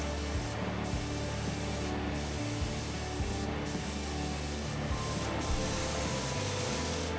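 Thinned paint sprays from a spray gun inside a catamaran's interior under construction: a loud, continuous close hiss with a few brief breaks where the trigger eases, and no speech.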